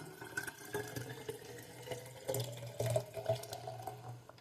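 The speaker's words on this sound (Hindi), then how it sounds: "तो ये हमने गर्म पानी रेडी कर दिया है, तो अब हम इसको इसमें फिल करेंगे" Hot water pours steadily into a container, a continuous close trickling and splashing that surges a little midway and then tapers off.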